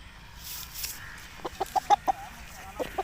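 An aseel rooster clucks close by in a series of short, sharp, evenly spaced calls, about eight in a quick run after a quiet opening, with faint background noise.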